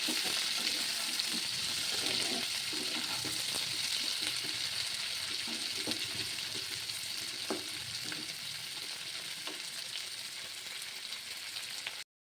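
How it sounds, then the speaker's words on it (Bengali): Onions sizzle steadily in hot oil for several seconds, a constant close crackling hiss with occasional scrapes of stirring, no voices. "দেখো এখানে পেঁয়াজটা হালকা লাল লাল করে ভাজা হয়ে গেছে"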